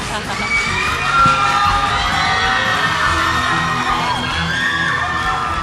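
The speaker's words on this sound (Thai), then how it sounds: "ขอเสียงปรบมือต้อนรับด้วยนะคะ" A school audience welcomes a guest on a stage show with loud cheering, whoops and children shouting, a sustained excited crowd roar with some clapping mixed in.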